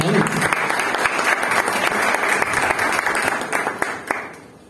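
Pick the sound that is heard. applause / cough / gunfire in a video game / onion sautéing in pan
applause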